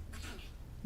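A single sharp, breathy sneeze bursts out near the start and fades within half a second over a low steady hum.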